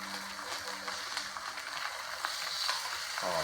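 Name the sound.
bacon sizzling in a pan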